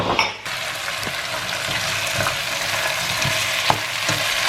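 Jamaican curry chicken sizzling in a pot as it is stirred, a steady frying hiss with soft scraping strokes of the spoon recurring every second or so.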